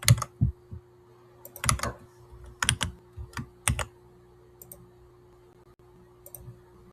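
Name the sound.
typing on a computer keyboard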